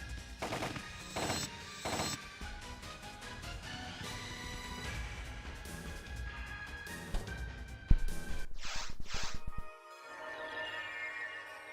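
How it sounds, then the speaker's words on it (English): Rapid Uzi-style gunfire from a video game, a dense, steady stream of shots running for several seconds with a few louder bursts near the end, no talk over it. "shoot dark balls with bullets. Like actual bullets. Like an Uzi"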